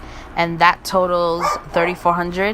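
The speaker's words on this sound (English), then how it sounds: "that's my dog in the background barking" A dog barks in the background in quick, yelping bursts, several loud barks and whimpers that overlap someone talking in the foreground.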